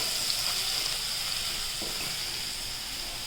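Garlic sizzles in hot oil over a lowered flame, a steady, moderate hiss with faint crackles that holds throughout, with no talking.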